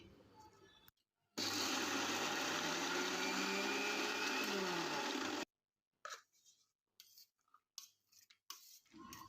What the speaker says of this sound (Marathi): यामध्ये भिजवलेली हरभरा डाळ टाकायची आणि ही जाडसर वाटून घ्यायची